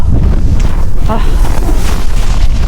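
Strong wind in Greenland buffets the microphone in a steady low roar, with a voice briefly audible beneath the rumble.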